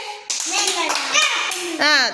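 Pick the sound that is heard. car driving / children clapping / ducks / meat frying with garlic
children clapping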